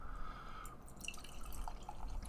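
Java The Hutt stout from 903 Brewers pouring into a tulip glass, a quiet liquid trickle with scattered small drips and splashes over steady background hiss, no talking.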